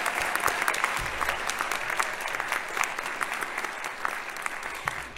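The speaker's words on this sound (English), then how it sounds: "And we can clap for that." Steady, dense audience applause fills a graduation ceremony hall right after degrees are conferred, a continuous wash of many hands clapping at moderate loudness for several seconds with no speech over it.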